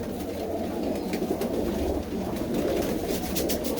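Pigeons being handled let out soft, continuous cooing within a dense, busy wash of loft noise, close and fairly loud throughout.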